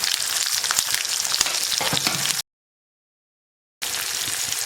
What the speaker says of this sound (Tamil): அப்புறம் சின்ன வெங்காயத்தையும் போட்டுடலாம், இந்த கருவேப்பிலையும் போட்டுடலாம்.